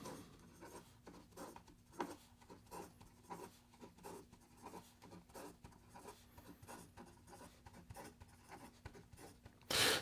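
A PenTeo Samurai Longsword fountain pen writes quickly on paper, giving a series of crisp scratchy strokes and taps in an uneven rhythm, close and fairly quiet, ending with a short louder rustle.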